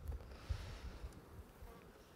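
Honeybee colony buzzing during a late-summer honey harvest, a soft, steady hum with a few low thumps, faint and close, with no talking.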